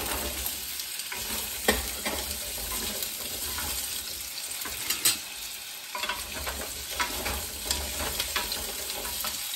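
Potatoes and carrots frying in a pan for a goat and pineapple stew, a steady close sizzle with occasional stirring clatters and scrapes throughout.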